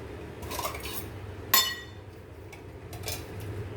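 A metal kadai being set down on a stove before cooking mutton curry, giving one sharp ringing clank amid light kitchen clatter and faint background noise.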